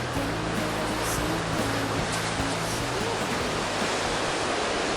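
Sea wind and surf roar steadily on Sinsido island, a dense, loud, unbroken wash of noise with a low hum underneath, nearby and constant throughout.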